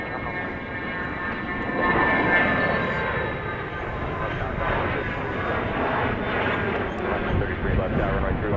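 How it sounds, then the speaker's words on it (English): Cessna 680 Citation Sovereign business jet at Dallas Love Field, a continuous loud engine roar and whine that swells and holds, with a voice speaking over it. "This is a Cessna 680 citation Sovereign"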